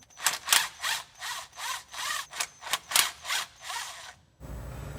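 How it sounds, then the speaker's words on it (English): A T20 torque socket turns out the transmission filter bolts, producing a close series of rhythmic metallic ratcheting bursts that stop abruptly near the end, followed by low background noise. "this is held in by 2 bolts that are going to require a T20 torque socket to remove"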